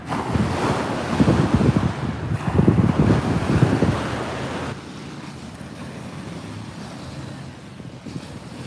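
Strong wind gusts buffet the microphone over the wash of choppy lake water on Lake Wakatipu, Queenstown, New Zealand, louder at first, then settling into a steadier, lower rush.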